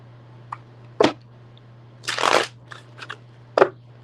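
Tarot cards being shuffled by hand in a few separate bursts of riffling and snapping, close and fairly loud over a steady low hum, with no talking.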